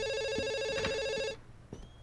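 A telephone rings with a steady, harmonically rich electronic bell tone for about a second and a half, then cuts off, leaving faint room noise and a brief knock.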